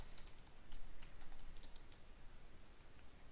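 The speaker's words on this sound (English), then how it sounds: "Clearly my typing skills are amazing." Quick, irregular clicks of keys on a computer keyboard, typed close by in steady bursts with no talking.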